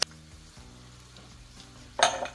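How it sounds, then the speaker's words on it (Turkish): Mince roasting in a pan, soft continuous sizzle with a stirring scrape and a sharper burst of frying near the end, fairly close with no talk. "Yaklaşık 10 dakikadır kavruluyor."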